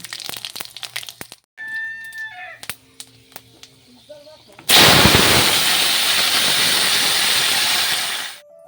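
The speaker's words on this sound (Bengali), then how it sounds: "তেলটা গরম হয়ে গেল এখন পাঁচফোড়ন আর শুকনো লঙ্কা সম্বার দিয়ে লাউটা দিয়ে দেবো" Five-spice seeds and dried red chillies hit hot oil for a bottle gourd curry: after scattered kitchen clatter and clinks, a loud, sudden sizzle erupts and holds steadily for several seconds before cutting off.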